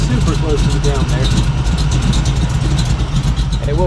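A 1959 Chevy V8 idling with the exhaust cut off behind the headers, a loud, raw, rapid open-header rumble close by, with someone talking over it.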